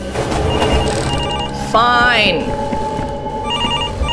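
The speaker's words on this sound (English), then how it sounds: "My phone is still ringing." A telephone rings in the Roswell Ranch video game, a short warbling electronic trill standing out over game music, with someone talking around it.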